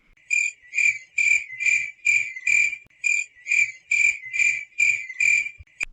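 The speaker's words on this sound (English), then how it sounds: "I'm literally gonna put cricket sound effects to this." Crickets chirp in steady bursts, about ten evenly spaced trills repeating close and clear with nothing else in the background.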